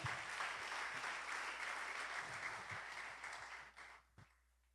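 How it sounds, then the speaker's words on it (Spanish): A church congregation applauds together in a steady wash of clapping that holds, then thins and fades out near the end, with a little talk underneath. "Alguien dale un aplauso a Jesús."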